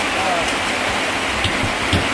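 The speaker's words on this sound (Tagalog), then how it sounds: "Malakas ang ulan." Heavy rain pours steadily outside a small house, a dense, even hiss filling the whole stretch with faint voices nearby.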